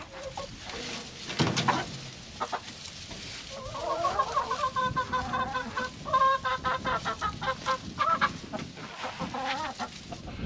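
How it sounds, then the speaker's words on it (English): Isa Brown production hens cluck and murmur nearby in a backyard flock, with repeated short bursts of clucking and squawks over a busy outdoor background, no voices. "That's my production chicken here."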